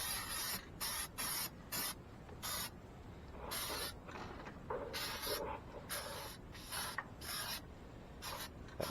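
A nearly empty spray paint can hisses out about a dozen short, sharp bursts close by, separated by brief quiet gaps as paint is applied on a 1988 Dodge D100 truck project.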